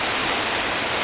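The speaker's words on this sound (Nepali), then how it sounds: "कत्रो पानी पर्न थालेको नि हेर्नु" Heavy rain pours down as a dense, unbroken hiss of water, loud and close, with no voices.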